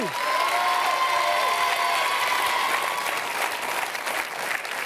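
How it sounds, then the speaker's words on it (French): A TV studio audience at a Star Academy tribute broadcast applauds loudly and continuously, dense clapping with a faint sustained musical tone underneath at first. "On peut les applaudir encore une fois."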